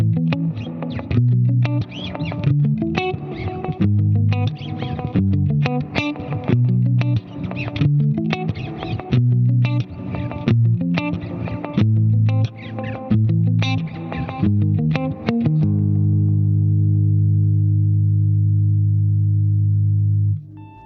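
An electric guitar is played through an effects preset with delay and reverb followed by a VCA compressor, loud driven chords and picked notes that stop and leave a long sustained reverb tail ringing out alone.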